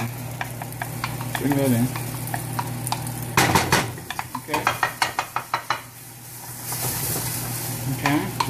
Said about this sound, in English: Come and show them how to toast the paste.